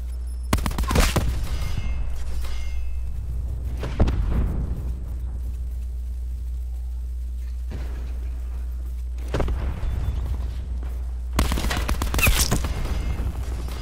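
Video-game combat with gunfire and rockets, sharp loud bursts of shots and blasts in separate clusters with quieter gaps between them, over a constant low rumble.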